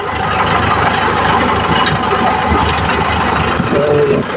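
A tractor engine idles loudly and close on a farm, a steady low chugging drone with a knocking pulse that holds throughout.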